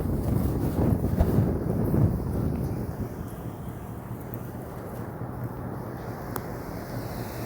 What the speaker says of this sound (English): It's kind of a windy day.